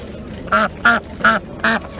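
Four separate loud duck quacks at a steady, roughly even pace at a poultry market, each a short nasal honk standing out over quiet background.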